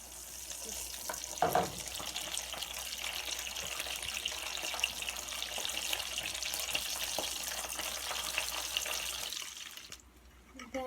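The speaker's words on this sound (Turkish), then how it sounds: "biberlerimizi de kızartıp götürürük." Steady hissing sizzle of peppers frying in hot oil on a saj, continuous and close, with a brief clatter partway through before it cuts off near the end.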